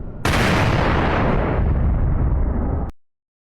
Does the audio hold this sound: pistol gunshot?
yes